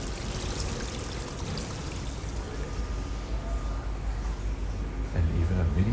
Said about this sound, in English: A waterfall, some greenery here.